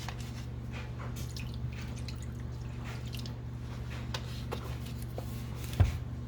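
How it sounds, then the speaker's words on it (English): Water is added into a cooking pot, producing a steady watery wash with scattered drips and small splashes over a low constant hum. One sharper knock lands near the end. Nobody speaks. "I'll go ahead and add it in some of this water."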